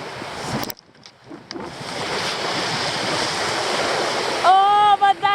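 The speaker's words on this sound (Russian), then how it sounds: "Южный океан. Там даже кто-то купается." Southern Ocean surf washing onto an Australian shore, a steady broad roar of waves with wind buffeting the microphone, loud and close, ending with a brief whistling sound.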